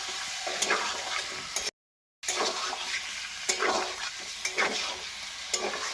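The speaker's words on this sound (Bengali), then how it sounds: "দশ মিনিট ধরে আমি চিকেনটা কিন্তু নাড়াচাড়া করে ভেজে নিলাম" Chicken pieces fry in hot oil on a low gas flame for a chicken and potato curry, a soft steady sizzle broken by periodic stirring scrapes, with one brief dropout.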